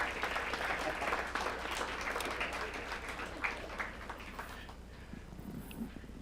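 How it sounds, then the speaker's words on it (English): Audience at a school board meeting applauding Trumbowersville students, steady clapping from many hands that gradually thins and fades toward the end. "one more big round of applause for Trumbowersville kiddos"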